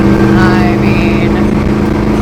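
A loud SRT8 engine in a 1966 Jeep Super Wagoneer roars as it accelerates, a steady deep rumble rising in pitch, close by, with a voice speaking over it.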